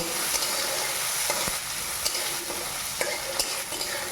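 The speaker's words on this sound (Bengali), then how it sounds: "রসুন কুচি দিয়ে দিচ্ছি একটু লাল হয়ে গেলে টমেটো কুচি দিয়ে দেব" Chopped garlic frying in oil in a pan, a continuous close sizzle punctuated by a handful of light spatula taps and scrapes, steady and moderately loud with nobody speaking.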